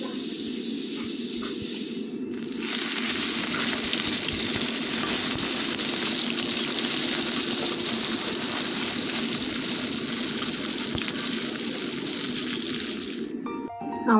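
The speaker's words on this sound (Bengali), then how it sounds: "তো তার সাথে মাছগুলো ভাজছি।" Fish frying in hot oil in a home kitchen, giving a loud, close, steady sizzle that hisses and crackles without a break for over ten seconds before cutting off abruptly near the end.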